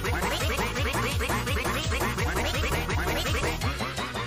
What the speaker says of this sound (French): Elle met toujours des canards partout.